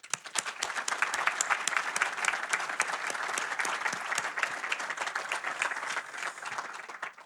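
Applause at a book presentation in Porto, individual claps distinct and crisp within a moderate crowd of clappers, steady throughout and fading slightly at the close, with no talk.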